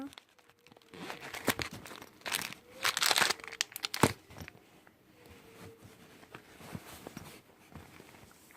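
A zippered package is opened, giving close, uneven bursts of crinkling and tearing plastic with scattered rustles and handling noises between them.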